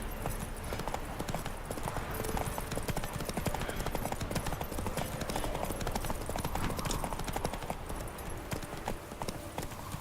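Horse hooves clip-clop steadily while riding in The Witcher 3 video game, a continuous dense trotting rhythm over ambient game sound, with no talk.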